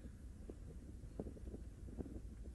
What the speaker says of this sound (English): Oh, the wind is incredibly hard at the moment